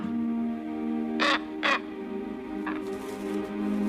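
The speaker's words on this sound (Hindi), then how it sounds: "ऐसा लग रहा है मानो ये कौवा स्लावा को अपना साथी बनने का न्योता दे रहा है" A crow gives harsh caws in a wildlife setting alongside a wolf: two loud close calls in quick succession, then a fainter third caw, over a steady low hum.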